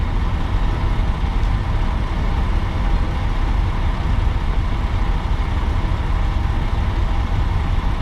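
A vehicle engine drones steadily on the road while towing a 1,200-pound trailer carrying a 3,500-pound car, a constant low rumble with road noise and no voices.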